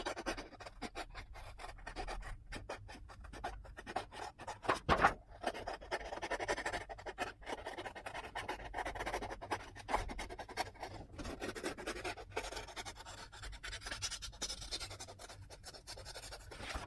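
Scissors cutting paper for a circle-shaped art journal, a steady soft scratchy rasp of snipping and paper rubbing that runs throughout at close range, with one brief louder knock partway through and no talking.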